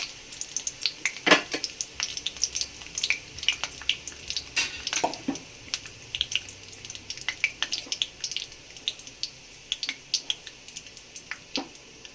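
Cumin seeds crackling and popping in hot oil in a pan, soft, sharp, scattered pops with a faint sizzle beneath, close but quiet.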